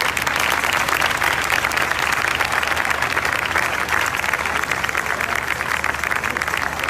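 Audience at a live worship revival festival applauds loudly and steadily, a dense crowd clapping that continues without a break.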